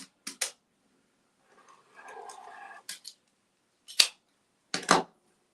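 Scissors trimming the white edge off a tumbler wrap, a handful of sharp isolated snips spaced apart, close and crisp, with a faint soft rustle in between.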